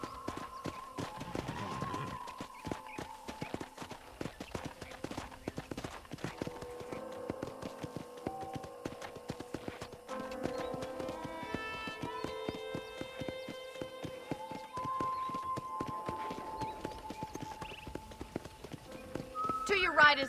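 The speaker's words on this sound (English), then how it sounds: "let's see if you can still ride a horse" Horse hooves clip-clop at a steady riding pace in the Western game Red Dead Redemption, moderately loud, running beneath spoken dialogue and game music for most of the stretch.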